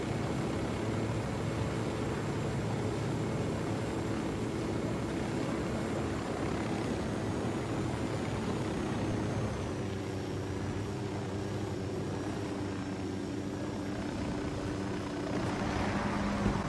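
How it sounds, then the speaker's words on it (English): A surveillance drone in the Ghost Recon video game hovers with a steady, droning propeller hum and a faint high whine, continuous and even throughout with no talking. "Drone is airborne."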